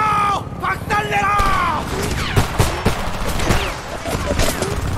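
Heavy battlefield gunfire in the Homefront game: continuous loud shots and booms crackling close by, with shouted voices calling out over the din.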